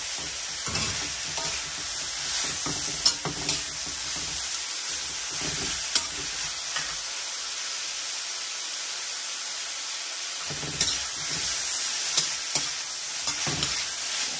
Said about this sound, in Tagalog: Haluin lang natin ng haluin hanggang maluto itong gulay.